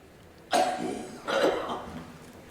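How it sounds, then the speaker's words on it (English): Two harsh, breathy coughs from a patient with a persistent cough in a clinical recording, the second following about a second after the first, close and alone. "And the brother coughs. He coughs all the time."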